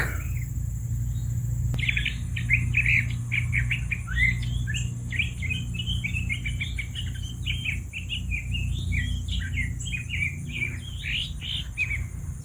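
A small bird in a holly tree sings a busy, continuous stream of chirps and trills, fairly close, over a steady low background hum.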